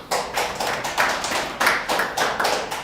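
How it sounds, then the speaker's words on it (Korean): A congregation at a Korean Wednesday church service breaks into applause, steady group clapping with rhythmic surges roughly every half second, close and loud, with no talking over it. "하나님께 영광의 박수를."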